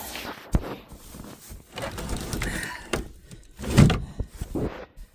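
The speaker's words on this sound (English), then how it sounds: "close the door, which I'm going to do right now" The door of a decommissioned 1979 ambulance converted into a rabbit shelter swings shut, with a sharp thunk early on, shuffling and rattling, then a heavier close-by slam.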